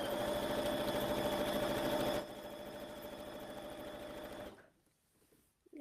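A sewing machine runs at a steady fast whirr while stitching quilt strips for a rail fence quilt, close and fairly loud. It slows to a lower pace partway through and then stops.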